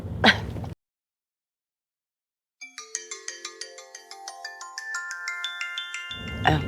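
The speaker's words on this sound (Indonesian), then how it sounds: "Pak, sebentar Bima telepon." A phone ringtone plays a melodic, repeating electronic tune for an incoming call after a brief silence, steady and clear in an indoor scene, with short bursts of other sound at the start and end.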